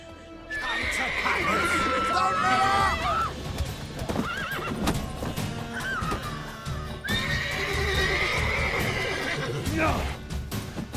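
A horse in The Witcher 3: Wild Hunt whinnies loudly in a long, wavering neigh, then neighs again later, with hoofbeats and voices talking underneath.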